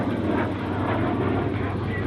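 A loud jet engine roars steadily overhead as a CT-133 Silver Star jet performs an aerobatic roll at an air show, a continuous rushing drone that stays strong throughout.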